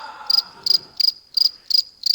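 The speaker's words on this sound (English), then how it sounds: "Thanks for the crickets." A noise machine plays cricket chirps, six evenly spaced, loud, clear trills repeating about every 0.35 seconds, with faint background murmur at the start.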